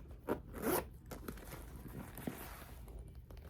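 A zipper on the front pocket of a leather purse pulled open in a couple of quick, close rasping strokes, followed by faint handling noises.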